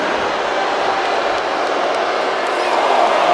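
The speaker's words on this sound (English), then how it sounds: "He's taking a moment to feel the crowd," A dense crowd roars in a WWE 2K24 wrestling match, a loud, continuous wash of cheering arena noise that swells slightly toward the end.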